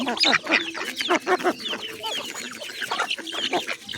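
Hens cluck busily as they eat feed from a child's hands, a flurry of close, overlapping short clucks and squawks with no talking.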